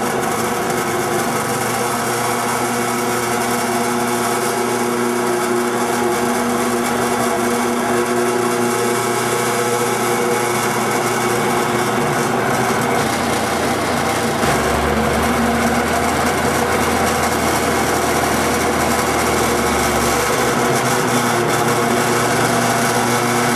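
A Laguna Platinum Series 18-inch industrial drill press runs steadily with a loud, even motor whine and broadband hum that holds without pause, a slight shift in low rumble partway through.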